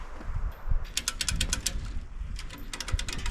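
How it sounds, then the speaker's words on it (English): A come-along ratchet clicks in rapid runs of sharp ticks, two bursts separated by a pause, as it is cranked to tighten 8-foot deer fencing outdoors, close and fairly loud. "we got about 4 feet we can crank on these come-alongs and hopefully get this thing tight without exploding"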